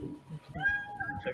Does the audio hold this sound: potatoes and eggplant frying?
no